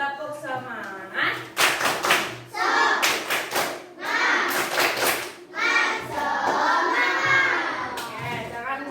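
A school class does a rhythmic spirit clap led by the teacher, bursts of group clapping and tapping in patterned rounds mixed with children's chanting voices, close and lively.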